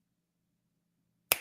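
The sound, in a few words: finger snap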